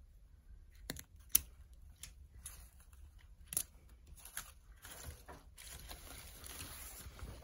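Wire tails on an aqua autumn harvest grapevine floral wreath are snipped off with cutters: a few sharp, isolated clips spaced apart over a quiet background with faint handling rustle and no talking.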